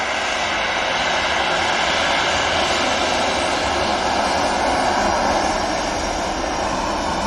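A Ryanair Boeing 737 NG with retrofit winglets at Manchester Airport gives a loud, steady broadband jet engine roar that holds constant throughout, with no talk over it.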